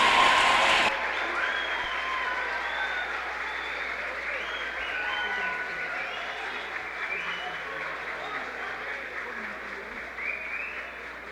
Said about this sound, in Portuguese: Acolham com a salva de palmas.